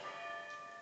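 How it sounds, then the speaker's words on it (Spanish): Church bells ring in the video game PokePark: a sustained, resonant bell tone with lingering harmonics, heard quietly and alone with no voices. "Han sonado las campanas."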